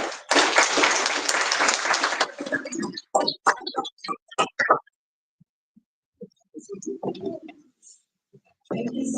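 Audience applause after a panel discussion at Mining Indaba 2025 in Cape Town, a dense burst of clapping from a large crowd that thins into scattered individual claps, followed by a voice speaking.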